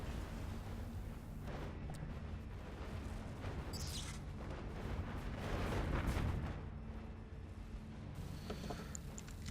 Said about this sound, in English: which just kind of leads to this massive explosion storm seen here